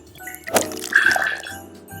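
Torani cupcake syrup pours into a shot measure for a cocktail, a short close liquid trickle with a soft splashing onset that fades after about two seconds.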